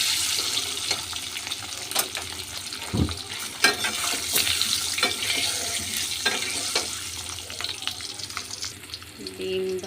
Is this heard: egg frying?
yes